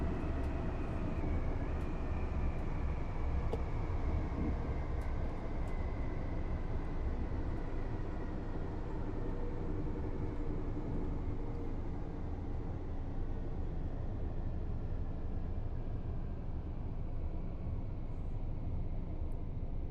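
Electrostar electric multiple unit in Train Sim World 4 on the East Coast Main Line, a steady, loud rumbling drone with a slowly falling whine and a few faint clicks, continuous throughout with no talk.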